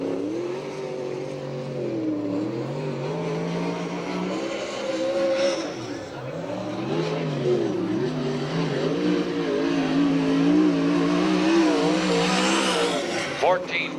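USAC/CRA sprint cars roar around a dirt oval at Santa Maria, California under the green flag, loud engines revving and surging in a continuous pack, with an announcer talking over them.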